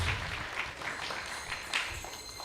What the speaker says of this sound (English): Let's give His Grace Guru Prabhu one more big round of applause.